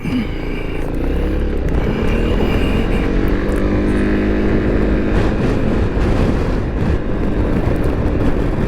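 A Yamaha Xmax 300 scooter cruises along a road at highway speed, its engine drone steady and loud, with strong wind roar buffeting the mic throughout and no talking.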